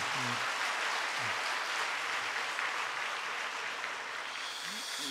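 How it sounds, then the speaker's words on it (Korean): Church congregation at a parents' and teachers' seminar applauding together, a steady wash of many hands clapping, fairly distant, with a few faint voices underneath. "여러분 주님께 영광의 박수 한번 돌리시기 바랍니다"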